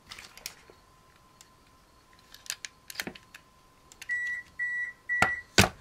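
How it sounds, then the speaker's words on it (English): A home oven running at a craft table, faint scattered clicks and taps giving way to a run of short electronic beeps near the end, no voices. "There's my oven."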